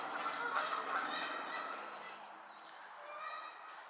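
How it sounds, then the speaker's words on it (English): Geese honk and other birds squawk steadily at moderate distance by a swamp in the afternoon, a continuous chorus that eases slightly toward the end. "Looks like the bird squawking is quieting down a little bit."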